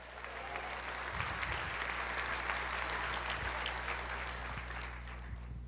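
A church congregation applauds in a long, dense, even wash of clapping that holds steady at a moderate distance, with no voices standing out.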